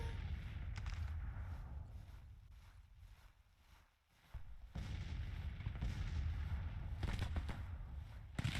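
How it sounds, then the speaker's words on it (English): Artillery fires in the Grand Tactician Civil War strategy game, heard as deep, rumbling booms that roll on under steady battlefield noise, with heavier blasts near the end and no talking. "our artillery is firing pretty good"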